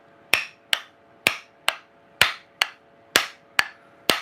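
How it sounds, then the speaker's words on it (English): A tool head is driven down onto its wooden handle with about ten evenly spaced, sharp thwacks, close and fairly loud, each decaying quickly, with no talking. "when I drive this down, the inertia brings the head up into, or the head up onto the handle."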